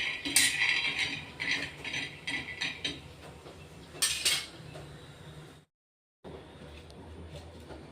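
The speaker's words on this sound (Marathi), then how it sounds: "शेंगदाणे घेतले ते 1 वाटी. ते भाजून घेतोय आता." Peanuts dry-roasting in a pan for an eggplant curry masala, with repeated metallic scraping and clinking as they are stirred, a short silent gap, then more quiet rattling close by.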